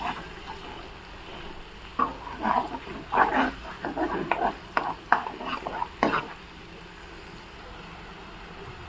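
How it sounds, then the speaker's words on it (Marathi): Masala is sautéed in oil for a chicken curry, with a run of scraping, stirring strokes in the middle over a low background sizzle, quieter at the start and end. "हा मसाला आपण आहे ना तेलात असं परतून घेऊया."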